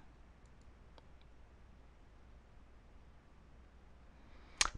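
A computer mouse clicks on a link while confirming an email address, a single faint, sharp click near the end after quiet room tone, with a few softer ticks earlier.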